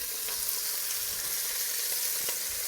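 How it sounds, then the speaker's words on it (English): Beef short ribs sear in a hot pan with a loud, dense, continuous sizzle and hiss, close up and steady, with no voices over it. "Now at first it may be a little smoky while searing it."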